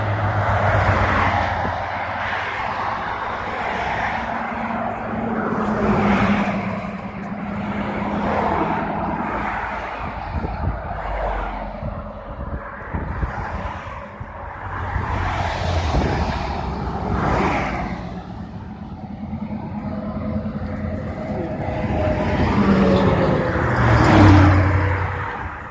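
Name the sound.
cars driving by on a road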